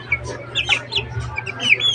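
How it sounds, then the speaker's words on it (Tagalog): Chickens cluck repeatedly in short, overlapping bursts, close by, over a steady low background hum, with no talking. "Ang mga manok."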